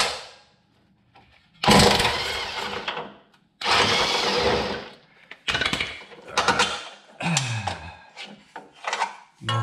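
A wrench works a 19 mm nut on the left-side control arm of a Toyota Corolla, giving several close, loud bursts of rasping, scraping metal with short pauses between them.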